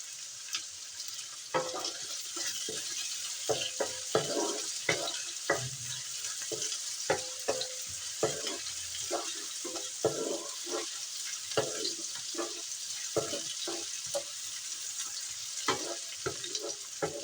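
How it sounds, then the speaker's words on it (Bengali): Chopped green chili and garlic frying in a pan for a bottle gourd greens dal, giving a bright continuous sizzle with frequent sharp spatula scrapes and taps in an uneven rhythm, heard up close. "এটাকে ভেজে নেব সুন্দর করে।"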